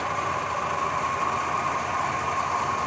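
A 1967 Chevrolet Impala SS 396 with a replacement 396 block idles steadily, a smooth, even engine drone held close and constant with no talk over it.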